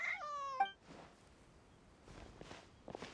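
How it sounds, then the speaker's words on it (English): A cat in the video game Genshin Impact gives a short, clear meow at the start, then quiet game ambience follows with faint soft footsteps. "Even a passing cat can't help but stop in its tracks and look up in anticipation."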